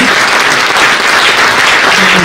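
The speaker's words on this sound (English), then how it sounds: "Give Sharon a round of applause." Loud, dense applause from a large audience at a county comptroller's inauguration ceremony, a continuous close roar of clapping with no gaps.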